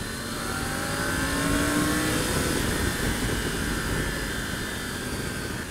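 A 2025 Triumph Tiger 900 GT Pro motorcycle engine pulls steadily in fourth gear from low revs, a continuous droning hum mixed with strong wind rush, heard close and without any voices.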